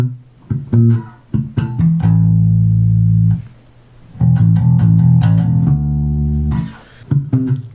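Electric bass plays the closing phrase of a solo, with slides, muted dead notes between fretted tones and vibrato on held notes; plucked notes cluster in quick bursts around two long sustained tones, loud and alone.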